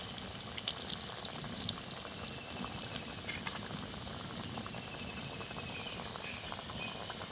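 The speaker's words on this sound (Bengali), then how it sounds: "খাজাগুলো এবার লাল লাল করে ভেজে নেব" Khaja pastries deep frying in hot oil, a dense continuous bubbling sizzle with faint crackles and pops, steady and fairly quiet throughout with no voices.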